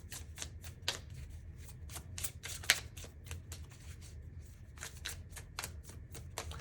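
Tarot cards are shuffled up close in quick bursts of crisp riffling and slapping, coming in clusters with brief pauses and one sharper snap midway, with no talk over it.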